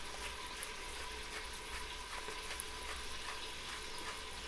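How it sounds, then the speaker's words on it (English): Bacon sizzling in a pan while pork stew is being cooked, a steady close hiss and crackle with a few sharp pops, no voices. "I hope you can hear me over the bacon sizzling."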